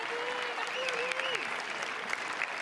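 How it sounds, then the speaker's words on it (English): Applause from a baseball crowd at a college game between Holy Cross and Nebraska, steady and broadband for the whole stretch, with a thin whistle-like tone gliding across it and an announcer's voice faintly underneath. "Justified applause for Jaden Waiwoda, the junior"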